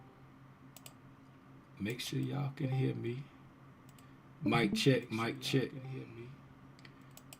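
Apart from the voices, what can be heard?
computer mouse clicking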